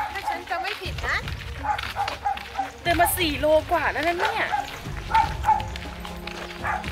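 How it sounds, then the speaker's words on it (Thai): A dog barks and yips repeatedly in the distance, partly under a person talking close by. "ได้ยินเสียงหมาเห่าฮะ"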